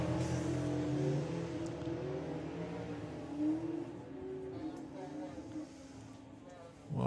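Drag racing car at Bug Jam 2023 launching and blazing its tyres, a sustained distant engine roar with wheelspin, under a commentator's talk.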